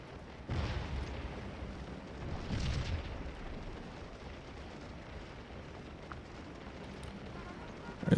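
Civil War artillery at Gettysburg in a strategy game fires canister from distant guns, giving a couple of dull, rumbling booms over steady battlefield noise, with another sharp report at the end.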